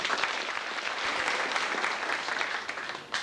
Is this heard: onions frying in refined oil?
no